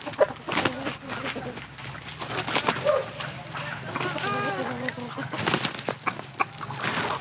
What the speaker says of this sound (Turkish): Şu anda bir horoz dövüşünü seyrediyorsunuz.